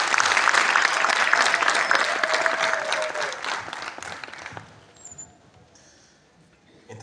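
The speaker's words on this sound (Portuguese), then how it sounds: "E uma salva de palmas para o painel." A crowd at a live commemorative event applauds a panel, loud dense clapping for about four seconds that then thins and fades into quiet room noise.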